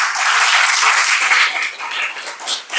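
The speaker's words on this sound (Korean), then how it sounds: "주님께 영광의 박수 드리겠습니다" A church congregation bursts into loud, dense applause right after a sermon, with sustained clapping that rises and falls slightly over a few seconds.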